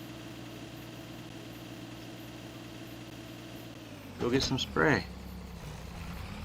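The engine of a tiny farm tractor idles with a steady low rumble and a faint hum, then a voice speaks briefly over it near the end.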